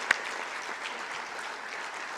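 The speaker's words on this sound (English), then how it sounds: "Let's pause and give a round of applause to the folks who kept our colleges running smoothly" Audience applause at a fall college convocation, a steady wash of many hands clapping at moderate distance after a single sharp clap at the start, continuing evenly without voices.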